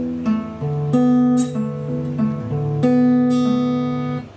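A guitar plucks a short melodic run of single notes, repeated with a small added phrase at the end, played close and clear.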